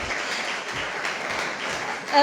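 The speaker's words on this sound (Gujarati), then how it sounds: "એકવાર જોરદાર તાળી ઉષાબેન માટે" An audience at a Gujarati literary festival poetry session applauds Dr. Usha Upadhyay with steady, dense clapping that holds evenly throughout and swells slightly at the end.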